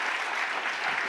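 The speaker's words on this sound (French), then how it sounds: "on peut l'applaudir" Festival audience applauding a book at a literary event, a brief dense burst of clapping from a crowd, steady and close.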